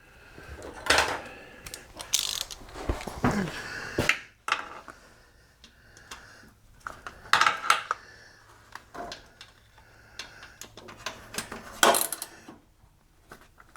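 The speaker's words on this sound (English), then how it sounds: "Same thing, 13mm bolt on it. It's just easier to get it with a ratchet than a wrench." A ratchet turns a 13mm bolt on a Pontiac Grand Prix LS4 engine during an engine pull, giving irregular metallic clicks and clinks in scattered clusters, close and fairly quiet, with no talking.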